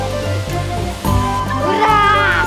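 Zeygelan waterfall, water plunging from a great height, gives a steady, close roar throughout, with a voice and tonal sounds rising over it.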